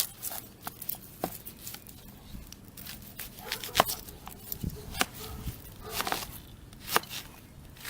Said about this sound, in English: In the meantime, I'm going to cut up some onion.